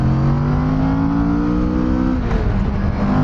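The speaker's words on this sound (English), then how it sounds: "it's the sound of the exhaust, the sound of the engine. It's a sport bike sound." A Kawasaki Vulcan S motorcycle engine and exhaust drone steadily up close, its pitch climbing slowly in one rev before dropping back, a smooth continuous mechanical hum with no voices.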